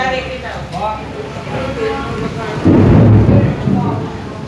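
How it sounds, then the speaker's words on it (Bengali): A thunderstorm outside a family home during a Satyanarayan puja gathering, with heavy rain hissing steadily and a deep rumble of thunder rolling in midway, loud and close, while people talk over it. "বাইরে জোরে বৃষ্টি নেমেছে"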